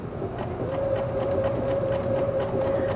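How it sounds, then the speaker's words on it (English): Baby Lock sewing machine stitching and backstitching fabric, a close, steady mechanical hum with a fast, even needle chatter running continuously without pause. "I can go ahead and sew here just a little bit"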